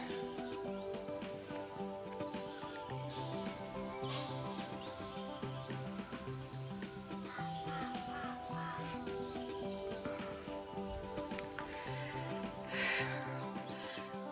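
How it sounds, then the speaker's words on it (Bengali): A crow caws repeatedly from a tree in the mountains near Kalpa in Himachal Pradesh, its harsh calls coming in short bursts over a steady outdoor background. "ওই গাছটায় মানে কাক আছে, কাক ডাকছে কা কা কা করে,"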